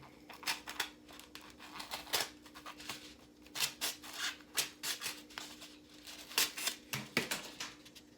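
A carpet blade slicing around a foam horn shape for a devil horn prop, producing close, repeated scratchy cutting strokes in an irregular rhythm, with no speech.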